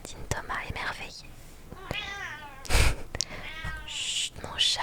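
A pet cat meows several times at close range, with wavering, rising cries, while a person whispers and shushes in between during a quiet reading session.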